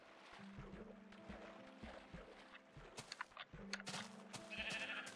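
A sheep in the Minecraft video game bleats in repeated short, wavering cries under faint game noise, with a few sharp clicks near the end.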